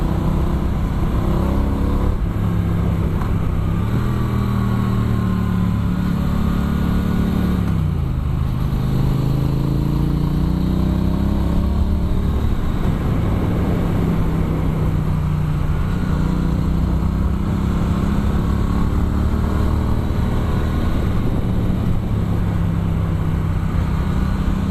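A 2017 Triumph Street Twin 900 motorcycle rides a winding road up through a gorge, its engine droning steadily close to the mic and rising and falling in pitch as the rider shifts and works through the bends, with no voices.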